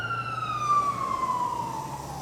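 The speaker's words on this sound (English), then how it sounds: "We got another ambulance pulling up." An ambulance siren wails close by in busy Los Angeles traffic, one long, loud descending tone over a low hum of vehicles.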